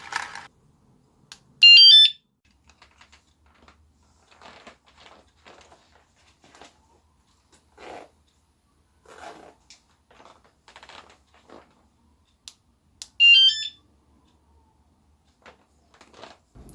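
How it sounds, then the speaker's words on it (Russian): Two short bursts of a shrill electronic electric-bike anti-theft alarm beep out amid quiet clicking and fiddling sounds, with long gaps between them. "Для спугивания угонщика или вредителя можно установить в скрытом месте вот такую сигнализацию."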